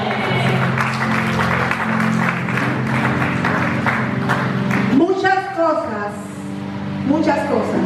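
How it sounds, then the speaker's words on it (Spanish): Sustained applause and clapping from a church congregation, steady for several seconds, with voices and music mixed in underneath. "¿Cuándo pueden darle palmas?"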